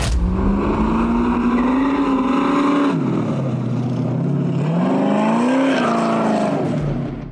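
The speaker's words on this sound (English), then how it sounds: "this 1966 Chevy Corvair with a 427 small block between the seats" A 1966 Chevy Corvair fitted with a mid-mounted 427 small-block V8 roars at an autocross, its loud engine note rising and falling steadily as it revs hard through the course.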